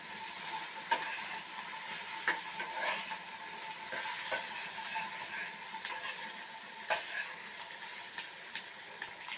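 Masala egg fry sizzles steadily in a hot pan as the pieces are flipped, a continuous frying hiss with a few light scrapes and taps, close and fairly quiet, no talking.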